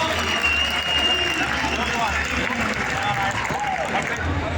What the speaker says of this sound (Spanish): Y luego también se merece un fuerte aplauso, desde luego.